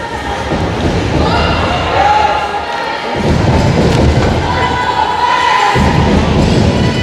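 Crowd cheering at a hockey game between Team Green and Team Red, a loud, sustained roar from the arena spectators with thuds on the ice and a commentator's voice over it.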